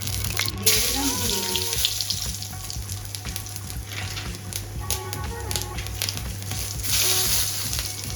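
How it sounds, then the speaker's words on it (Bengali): A large black cardamom pod and cumin seeds hit hot oil for a Bengali fish kalia, crackling and sizzling steadily up close, with a brief sharp burst at the start and small pops throughout. "এই তেলের মধ্যেই দিয়ে দেবো একটা বড় এলাচ আর জিরে ফোড়ন দিয়ে দিলাম।"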